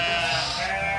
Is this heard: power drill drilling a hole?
no